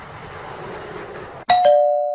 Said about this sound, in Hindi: कौन आ गया है? घंटी से हाथ ही नहीं हटा रहे।